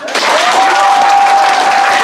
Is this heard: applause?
yes